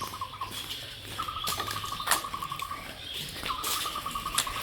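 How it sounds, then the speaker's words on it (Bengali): A squirrel calls near a maize field in a quiet rural village at midday, giving three runs of rapid, high chattering trills, the first short and the next two longer, against soft background ambience. "এটা হচ্ছে কাঠবিড়ালির ডাক।"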